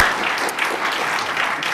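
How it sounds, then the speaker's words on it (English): An audience claps for the candidates at the 2013 Scranton school board general election debate, hosted by the University of Scranton: close, loud, steady applause that fills the whole stretch with no speech over it. "how about a round of applause for all of our candidates?"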